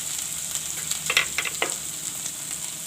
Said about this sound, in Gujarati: આ આદુ નાખી દેવું અને હિંગ નાખી દેવું આપણે